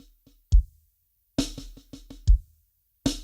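Six-stroke roll on a drum kit with a bass drum kick replacing the final left-hand stroke, played twice: crisp snare strokes punctuated by deep thumping kicks, close and alone.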